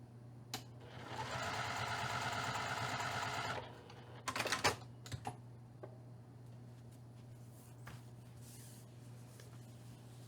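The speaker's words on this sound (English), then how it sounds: "that'll sort of start my machine quilting off" A sewing machine quilts patchwork fabric with white thread, running in a steady close stitching burst for about three seconds, then stops. Light handling clicks and taps follow in a quiet room.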